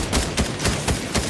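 Shotgun fire in the Fortnite video game, a quick series of about five evenly spaced, sharp blasts, loud and close, with no talking over them.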